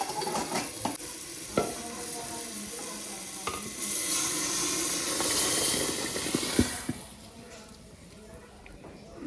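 Dal is tempered with a sizzling tadka in a pan, a hissing fry broken by stirring scrapes and utensil clinks, with a voice faintly present at times.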